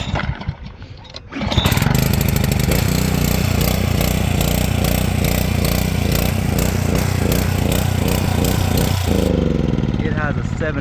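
A Honda GC160 pressure washer engine that has sat idle for two months catches with the choke on after a brief quieter start, then runs loud and steady with a continuous buzzing drone until near the end.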